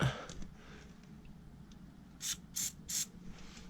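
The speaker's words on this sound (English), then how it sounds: "Okay, we're gonna lube everything up" Three short bursts of an aerosol lubricant spray hiss in quick succession, close by and crisp, onto the parts of a 110cc Tao Tao mini ATV, after a few quiet mechanical clicks.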